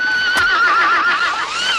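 A horse neighs loudly and close, a wavering whinny that rises and falls through nearly two seconds, with a faint hoof clop near the start.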